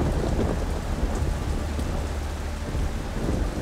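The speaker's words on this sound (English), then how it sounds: "Strong winds and heavy rain thrash the city in the warm tropical air." Heavy northeast monsoon rain pours down over Singapore in warm tropical air, a loud, dense, unbroken roar with gusting wind and low rumbles running under it throughout.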